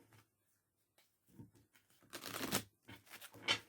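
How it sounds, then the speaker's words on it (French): A deck of value cards being shuffled by hand, soft riffling bursts and card slaps in short irregular spurts, close and quiet. "Je vais brasser aussi tout de suite les cartes des valeurs"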